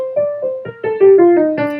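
A short melodic phrase in D Phrygian mode plays clearly, a series of sustained notes that step downward, each struck with a soft attack and held, with no talking.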